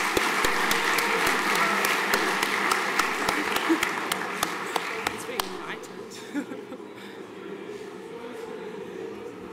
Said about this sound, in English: Round of applause for both of our teams